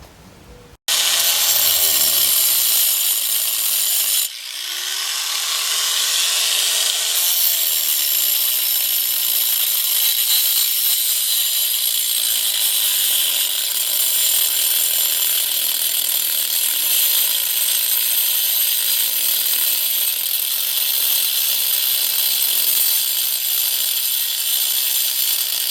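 A 4.5-inch angle grinder with a diamond blade spins up and cuts steadily through a wall for a super large pet door, a loud close continuous whine and grinding rasp lasting throughout.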